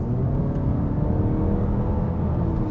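A 2019 Mazda3 Sport GT AWD in sport mode gives a steady, loud engine drone and low rumble that holds throughout with no distinct surge, from inside the car.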